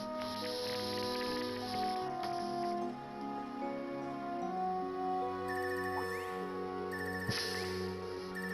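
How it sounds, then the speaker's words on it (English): A layered electronic phone ringtone from the video game The Legend of Heroes: Trails of Cold Steel III plays steadily, with sustained synth tones and occasional chime accents, no talking over it. "This ringtone."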